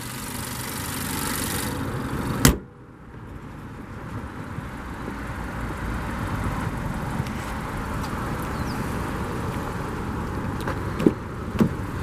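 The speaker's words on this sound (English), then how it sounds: "This is a very nice and reliable engine under here." A 2016 Honda Accord EX four-cylinder engine with CVT idles steadily with a low, even hum, broken by a sharp click and a couple of brief knocks.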